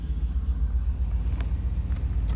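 A 1988 Pontiac Grand Prix idles with its engine running, giving off a steady low rumble with a faint pulsing beat and no voices over it.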